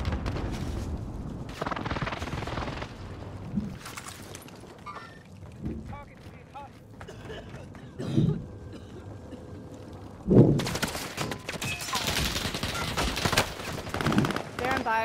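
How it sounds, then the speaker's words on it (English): Gunfire in the video game Call of Duty: Modern Warfare, with scattered bursts and single shots, some near and loud, others distant, mixed with voices talking and game ambience. "they're shooting at me."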